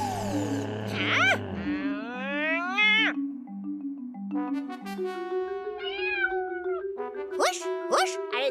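A cat meows repeatedly with several drawn-out, rising and falling cries close by, over background music.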